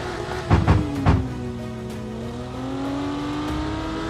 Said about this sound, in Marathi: कारच्या साऊंड कडे लक्ष द्या